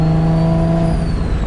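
A turbocharged 800 hp Infiniti G35 engine idles and revs gently under light throttle, a steady droning hum with a low fundamental and smooth overtones, close and fairly loud.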